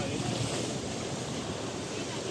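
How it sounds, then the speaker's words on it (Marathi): Ocean waves around a boat at sea, a loud, constant rush of surf and water mixed with heavy wind buffeting. "लाटा बघरी."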